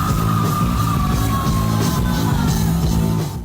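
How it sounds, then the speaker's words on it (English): A singer's scream rings out over the band at a live rock concert at the Whisky, sustained and loud atop dense drums and guitars with the crowd cheering throughout. "Got to experience the scream in person."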